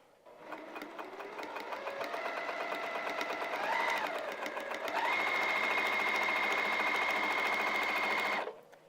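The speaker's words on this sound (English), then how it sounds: "now we can go to the sewing machine, Ramel." A sewing machine stitching vinyl runs in a steady, rapid whir for several seconds, briefly changing pitch midway, then stops abruptly.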